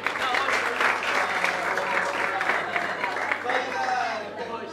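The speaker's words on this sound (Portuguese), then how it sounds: "Mais aplausos para o Diogo e para o Clinton" A comedy roast audience gives a sustained round of applause, a dense wash of clapping close by that stays even for several seconds and then tapers off toward the end.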